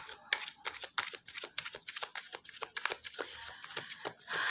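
Tarot cards slip and riffle through hands in a rapid, uneven series of crisp flicks and snaps, close and fairly quiet, with no voices.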